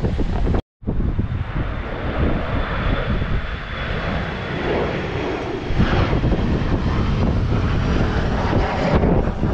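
Loud roaring airliner engine close overhead as it comes in to land at Newcastle Airport in strong wind, heavy wind buffeting the microphone, a steady drone that swells toward the end; a brief dropout early on.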